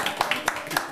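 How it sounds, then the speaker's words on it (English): A handful of quick, scattered claps from a small group in a cooking demonstration after a salmon fillet is removed, brief and close, with voices mixed in. "Where's the round of applause, everyone?"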